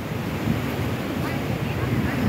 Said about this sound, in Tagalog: Ang lamig, ang lakas ng hangin.